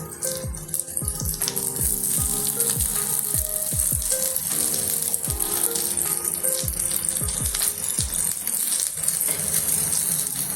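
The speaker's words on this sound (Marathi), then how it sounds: "आता आपण ते दुसऱ्या साईडनी शालो फ्राय करून घेणार आहोत मंदाचेवर।" Pea and potato kebabs shallow frying on low heat in a pan, a constant close sizzle broken by frequent light metallic clinks and rattles from the pan and utensil.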